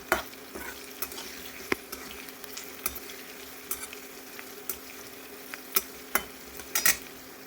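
Onions and radish soften in oil in a pan under a low steady sizzle, with a spoon stirring and scraping at irregular moments, close and without talking.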